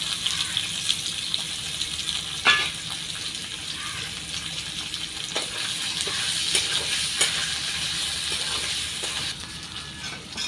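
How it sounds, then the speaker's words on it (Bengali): Dried fish crackling and sizzling in a hot pan, with intermittent sharp pops and scrapes of stirring throughout. "যে শুটকিগুলো কাটে রাখছি এগুলো হালকা একটু ভাইজে নেবো"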